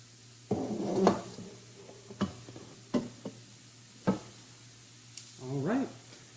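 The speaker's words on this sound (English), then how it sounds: "the reason we are stirring the broccoli is we want it to come into contact with the oil" Broccoli and onion get stirred in oil in a pot. Several short knocks and scrapes of the spoon sound over a faint sizzle, with a quiet voice between them.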